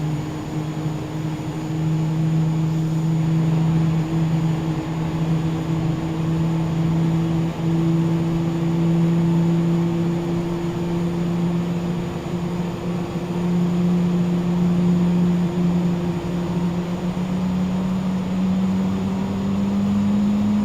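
Airbus A320 in Microsoft Flight Simulator during pushback, with engine 2 spooling up as a steady, loud turbine drone and a slowly rising whine held throughout.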